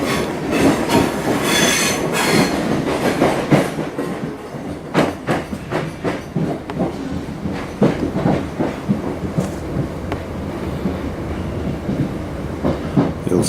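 A local passenger train pulls out of Manchester Piccadilly toward Crewe, its wheels clicking steadily over rail joints with occasional squeal, the rumble continuous and close throughout.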